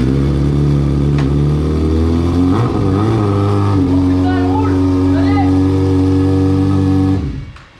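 A Yamaha R6 stunt motorcycle runs at a loud, rough idle close by, with throttle blips and revs swelling midway, before the engine cuts and fades out at the end.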